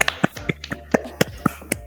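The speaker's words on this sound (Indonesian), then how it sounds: "tepuk tangan untuk kelompok 1 ya" A classroom group gives a short round of applause for group 1, heard as a quick run of about eight separate sharp claps spread evenly over two seconds, with no talk over them.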